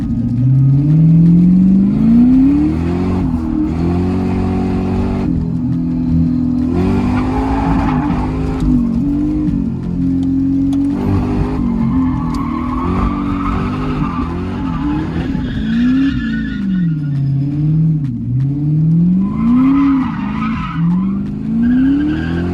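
A car with a welded differential drifts with loud, continuous tire squeal that wavers up and down as the tires slide, over a steady revving engine throughout.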